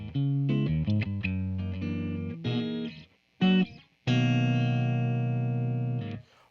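A Gibson Firebird X electric guitar plays through a distortion preset: a run of quick, choppy distorted notes and chords, a brief pause, then a long sustained ringing chord that cuts off, with no talking.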